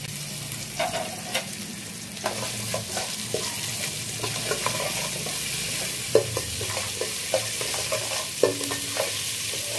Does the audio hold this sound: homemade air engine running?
no